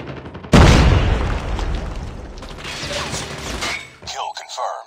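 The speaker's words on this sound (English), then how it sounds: "Grenade! Grenade!" A grenade blast in Call of Duty Mobile bursts loud and close, its rumbling boom trailing off over several seconds amid scattered gunfire and debris, followed by brief shouted voices.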